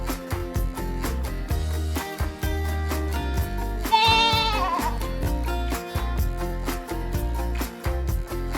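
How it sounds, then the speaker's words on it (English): A goat bleats over a bouncy children's song with steady percussion, a single wavering bleat rising clearly above the music near the middle. "It's a goat."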